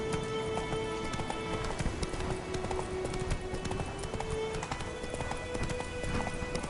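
Horse hooves clip-clop at a steady riding pace in the Witcher 3 game, close and continuous for the whole stretch, over a thin bed of game music with a sustained tone.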